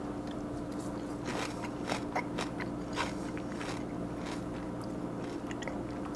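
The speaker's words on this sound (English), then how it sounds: "you get that nice crunch effect when you dig into it" Crunching as someone bites and chews fried fish cooked with its small scales on, a series of sharp crackly bites, close to the ear and fairly quiet, with no speech.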